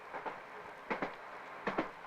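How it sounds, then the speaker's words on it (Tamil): A moving train rattles over the rail joints, giving three evenly spaced double clickety-clack beats heard fairly close and without voices. "ட்ரெயின் ஓடுற சத்தத்துல நீங்க என்ன சத்தம் போட்டாலும் கேட்காது."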